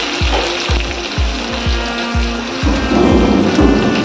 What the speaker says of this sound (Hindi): थोड़ा हरी मिर्च रेड होने के बाद थोड़ा जो प्याज है ना कटिंग करके रखा था वो भी डालेंगे